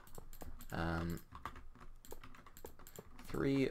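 Rapid keyboard or mouse clicks rattle in quick bursts, close and fairly quiet, while a voice talks over them.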